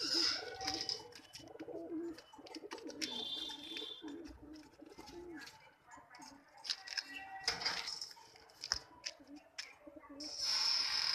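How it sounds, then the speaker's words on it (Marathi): A Pilanka pigeon coos softly in repeated low phrases amid rustling and wing or scratching noises nearby, with faint background voices throughout. "हा पिलंका कबूतर आहे"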